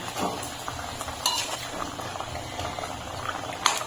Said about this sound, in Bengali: ঝোলটা আমার ভালো করে ফুটে গেছে। এখন আমি মাছগুলো ছেড়ে দিচ্ছি।